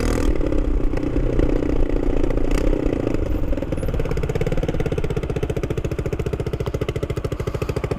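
A Superlight motorcycle engine runs steadily with its exhaust partly open and cloth wrapped around part of it, giving a loud, close, droning tone whose individual firing pulses grow more distinct toward the end.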